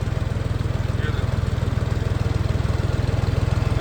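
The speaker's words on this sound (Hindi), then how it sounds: "रूटावेटर से जितना लोड पड़ रहा है इस ट्रैक्टर पे फिलहाल" A tractor engine labours under the load of a rotavator, a loud, steady low throb with a fast regular pulse that continues without a break.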